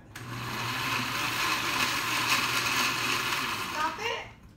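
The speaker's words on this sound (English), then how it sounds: "I'm gonna blend it for a couple of seconds." A kitchen blender whirs steadily for a few seconds, purees onion and garlic for a red salsa, then winds down near the end, a close, continuous motor roar with no talking.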